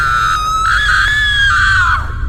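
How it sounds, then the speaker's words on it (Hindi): A long, loud, sustained scream with a shrill wavering pitch holds for about two seconds before trailing off, set in a horror tale about a witch attacking someone in a house. "तभी सामने से चीखने चिल्लाने की आवाज एक बार फिर से आने लगती है।"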